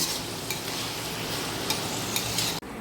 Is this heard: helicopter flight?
no